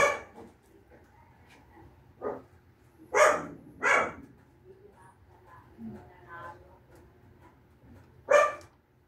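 Pet dogs bark in a neighborhood, several separate loud barks spaced out over a few seconds, with faint yips and background noise between them.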